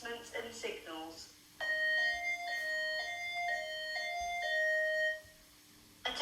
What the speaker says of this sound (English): We have received an alarm signal in the centre.